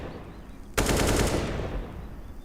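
A sudden, loud burst of rapid automatic gunfire in Counter-Strike: Global Offensive during an ESL Pro League match between pro teams, a dense spray of shots lasting about a second before fading.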